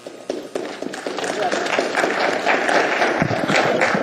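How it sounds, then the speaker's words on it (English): At an assembly meeting, the audience breaks into applause that builds from scattered claps to full, steady clapping, loud and sustained. "I know you like applauding, but please don't."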